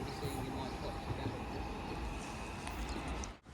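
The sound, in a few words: train arriving at Stafford station platform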